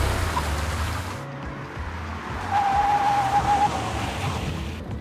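A car rolls up close and brakes to a halt near a camera during a self-filmed shoot, its engine rumble steady and a tire squeal rising midway before settling, heard alone with no talk.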